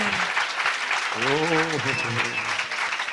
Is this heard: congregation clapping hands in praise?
yes